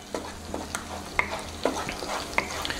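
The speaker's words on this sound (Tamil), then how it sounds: "இந்த முட்டையை மட்டும் இப்படி நல்லா ஃப்ரை பண்ணுறோம்" An egg frying in a pan gives a close, steady sizzle, broken by several sharp spatula scrapes and clicks as it is stirred and turned, with no voices.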